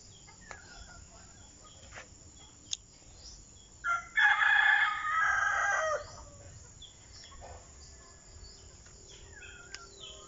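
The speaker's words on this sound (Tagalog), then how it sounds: "Native chicken." Native chickens kept in a backyard vegetable garden, with one loud rooster crow rising and holding for about two seconds mid-clip, faint clucks before and after, and a constant bed of insect chirping beneath.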